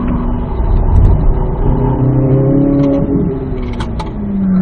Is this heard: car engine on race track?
yes